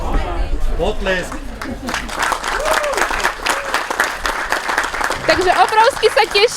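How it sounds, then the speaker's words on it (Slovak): Loud, sustained applause rises from spectators at a DHZ firefighter competition awards ceremony. Many hands clap densely, and voices and cheers mix in over the clapping. "Potlesk."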